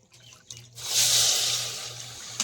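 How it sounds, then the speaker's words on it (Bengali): Water pours from a bowl onto flour in a mixing bowl, a short splashing rush that swells after a brief clink and fades over about two seconds, close and clear with a low hum underneath. "তাই 1 বাটি পরিমাণেই জল দেবো।"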